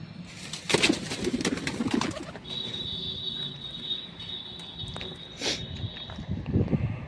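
Pigeons coo softly in their nest boxes, low rounded calls repeating at moderate distance alongside rustling, a faint whistle-like tone and occasional shuffling or wing movement.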